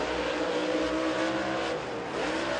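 A race car at speed on Volunteer Speedway during Carolina Clash qualifying, its engine a loud, sustained roar with a steady high-revving drone for the whole stretch, easing slightly near the end before swelling again.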